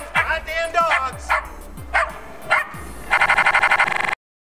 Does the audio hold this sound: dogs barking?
yes